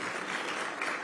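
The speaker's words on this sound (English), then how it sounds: "we'll clap for that" Brief audience clapping at an arts and cultural tourism awards ceremony, a short, soft burst of many hands heard from a distance.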